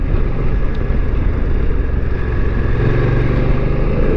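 A BMW motorcycle engine drones loudly and steadily while riding, with a rising tone as it pulls; the brief engine cut of the quick shifter during an upshift is not clearly set apart within the constant roar.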